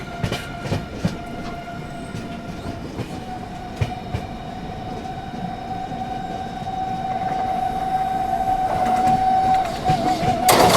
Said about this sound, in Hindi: फिर से आ रही है पीछे से साबरमती एक्सप्रेस हमें दोबारा से ओवरटेक करने भाई।